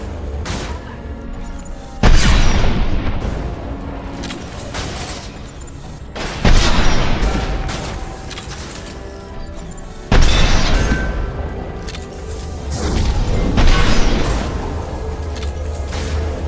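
Repeated heavy booms and gunfire bursts from a firefight in Mass Effect 2, three big blasts spaced several seconds apart with dense crackling shots and rumble between, loud and close.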